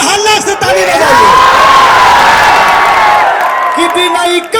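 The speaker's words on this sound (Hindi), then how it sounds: "एक जोरदार हल्ला से ताली बजाइए" A large crowd at a political rally in Patna erupts in loud cheering, whooping and applause, a dense sustained roar of voices and clapping that swells and then eases near the end.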